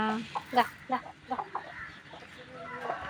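Village rooster and hens clucking nearby: a handful of short, throaty clucks come in irregular bursts, then fade into quieter farmyard background near the end.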